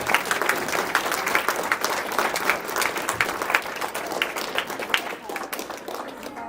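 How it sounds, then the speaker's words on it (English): Audience applause at a BMX banquet, sustained crowd clapping with individual claps standing out, with some voices and cheers mixed in before it eases slightly at the end. "So big round of applause for Josh."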